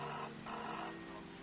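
A telephone rings in the video game Season: A Letter To The Future, a short, bright electronic trill heard clearly over a soft background hum.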